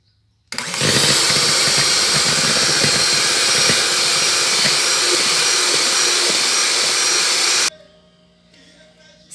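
A blender mixes a mango dessert, a loud steady whirring roar that runs for about seven seconds, then cuts out to a quieter background.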